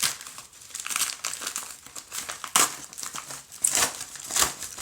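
A paper envelope holding coins is torn and crinkled open, with dense rustling and ripping bursts close up, no talking.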